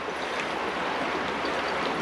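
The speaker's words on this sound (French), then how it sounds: "Là, c'est une rivière assez grande." A fairly large river rushes steadily nearby near the Puy de Dôme, a continuous broad wash of flowing water with no voices.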